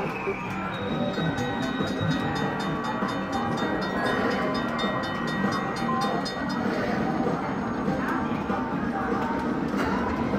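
Train bonus feature on a luxury-line slot machine, sounding as rolling rail clatter with horn-like tones and chiming beeps that run steadily throughout.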